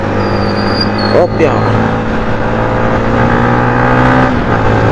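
A motorcycle cruises along a road near Candelaria on a ride home toward Masbate, its engine a steady, loud droning hum throughout, with someone talking over it.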